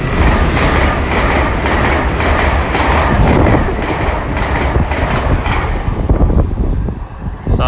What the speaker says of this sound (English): we got a Great Western IET about to come zooming through from Bristol to Meads